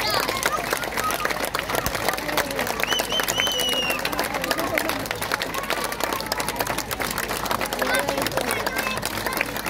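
A dense, steady wash of audience clapping fills the whole stretch at the Sibiu Cycling Tour 2023 award ceremony as a rider is welcomed, with a voice and crowd murmur mixed into the ovation.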